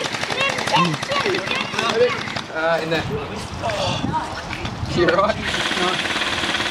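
Gel blasters fire in rapid bursts across a gelsoft milsim game in Perth, rattling and crackling under constant shouted talk from nearby players, with a denser spell of firing near the end.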